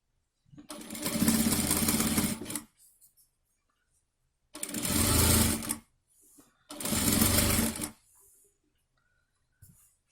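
Sewing machine stitching kurta fabric in three long bursts of fast, steady mechanical whirring, loud and close, separated by short pauses with faint handling noises.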